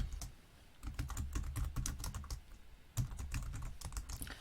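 Rapid clicking of keys on a computer keyboard while typing C++ code, steady typing bursts with brief pauses, close and fairly clear with no talking.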